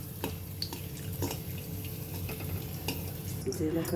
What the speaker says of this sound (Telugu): కరివేపాకు వేసి వేయించుకుందాం